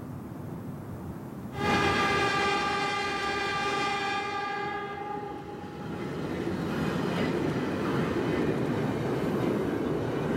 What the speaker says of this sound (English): riding the new Japanese bullet train